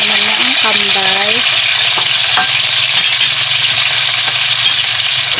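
Hotdogs dropped into hot oil in a kawali fry with a loud, steady, dense sizzle that fills the whole stretch, with a few faint tonal chirps near the start.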